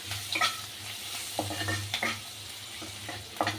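Asafoetida and garlic frying in hot oil for a prawn dish in gourd leaves, a close crackling sizzle broken by intermittent scrapes and taps of a stirring spoon.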